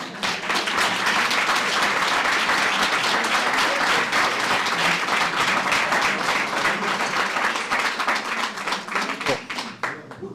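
After an evening talk in Mulhouse, a hall audience breaks into loud, sustained clapping that fades near the end, with some voices mixed in beneath.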